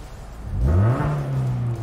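A modified Suzuki XL7 with a Valvetronic valved exhaust revs up sharply, its engine note climbing and then holding at a loud, steady drone close by.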